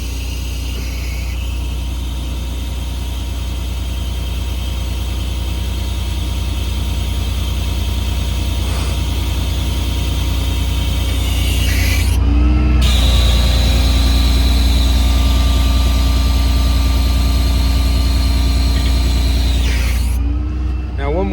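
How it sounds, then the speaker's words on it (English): A 2015 Ram 5500 with a Cummins diesel idles with a steady low drone while the PTO runs hydraulic outriggers on its crane body, adding a mechanical whine that rises in the middle, near and loud. "PTO is now on, so with the parking brake engaged, you hit one of the upfitter switches for the PTO."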